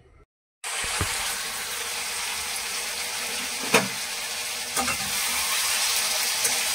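Garlic and onion fry in a pan, a steady loud broadband sizzle that starts abruptly after a brief silence and runs on continuously, with a few sharp clicks and scrapes from utensils.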